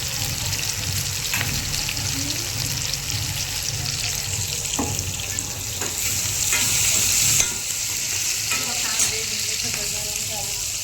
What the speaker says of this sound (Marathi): भुजून घेते मी.